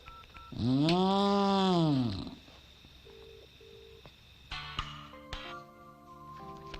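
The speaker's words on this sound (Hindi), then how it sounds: "अपन उसे फोन करने वाला है।" A few short electronic tones from a phone keypad, spaced apart, following a long drawn-out moaning sound; quiet background, no talking.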